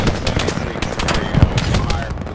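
Rapid machine gun fire in the World War II shooter Hell Let Loose, a dense stream of loud, close shots rattling steadily throughout, with voices talking underneath.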